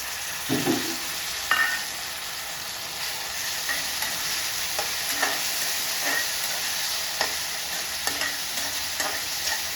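Tomatoes tipped into a frying pan with chilies already cooking, then stirred: a steady sizzle runs throughout, broken by scraping spoon strokes and small clatters at irregular intervals, with no voices.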